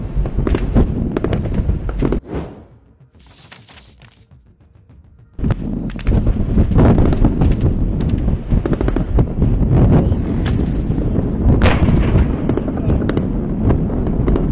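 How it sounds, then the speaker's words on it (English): A Russian tank firing at close range on Ukrainian trenches: loud, sustained blasts and crackling bursts with wind buffeting the microphone, a brief quieter lull midway, then dense continuous booming and rattling gunfire. "A Russian tank raided Ukrainian trenches and opened fire at close range."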